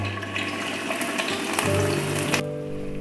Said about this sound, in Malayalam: നമുക്ക് ഇതിലോട്ടേക്ക് ഉള്ളി ഇട്ട് കൊടുക്കാം.